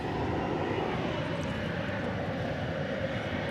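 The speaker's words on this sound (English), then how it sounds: "Airbus A320neo coming over to this side of the airfield" A Spirit Airlines Airbus A320neo at DFW Airport gives a steady, broad jet engine rumble at moderate distance, continuous and unbroken, with no voices.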